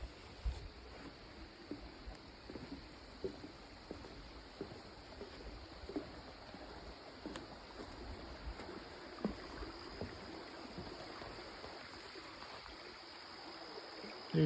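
A forest stream near royal ferns in Val-des-Monts, Quebec, gives a faint, steady burble and trickle of flowing water throughout, with small splashy ripples and no talking.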